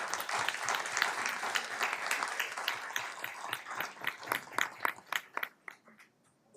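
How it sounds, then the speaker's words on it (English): A small crowd at a city council meeting claps steadily, then the applause thins out into a few scattered claps before fading away. "Let's give them a round of applause"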